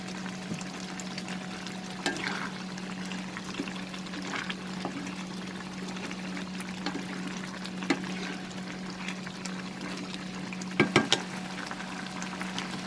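Sponge gourd and prawn curry bubbling steadily in a pan over a high flame, a continuous close sizzle and simmer with occasional small pops and clinks, no voices.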